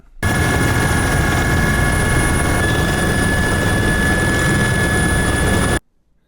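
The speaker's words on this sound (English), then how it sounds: "the viewpoint from the helicopter was amazing" Steady, loud helicopter rotor and turbine drone from inside the cabin on a sightseeing flight over the Seychelles, continuous for about five and a half seconds before cutting off abruptly.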